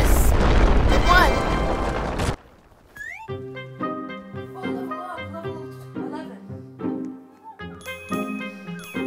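A loud, dense explosion boom from the Roblox game Book of Monsters fills the first two seconds, then cuts off abruptly into light melodic game music.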